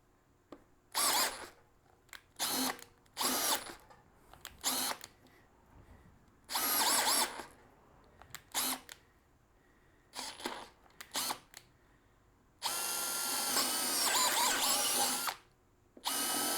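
A Greenworks 24V brushless drill driver with a 1/2 inch chuck runs on speed 2 in repeated short bursts, whirring close and loud between pauses, ending with one sustained longer run.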